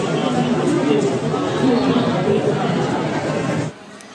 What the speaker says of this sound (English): the crowds.